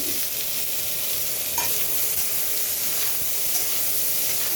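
Two chopped onions fry in a pan for a potato and cauliflower curry, hissing in a loud, unbroken sizzle close up, with a few soft stirring knocks and no speech.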